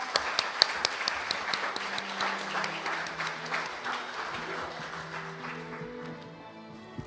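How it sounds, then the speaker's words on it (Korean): Applause from the audience at a Korean rural awards ceremony greets the foundation chairman, with steady, dense clapping and a few sharper claps standing out before it fades away. "김기영 이사장님을 큰 박수로 맞아주시기를 부탁드리겠습니다"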